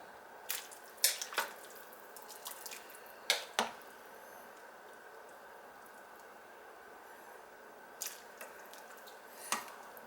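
A crockpot of wintery stew simmers on low, giving sparse soft pops and drip-like plinks scattered over a quiet, steady hiss.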